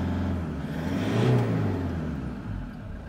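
A Toyota Hilux Workmate turbo diesel engine is revved up from idle, rising to a loud close roar and then settling back down, with no voices over it.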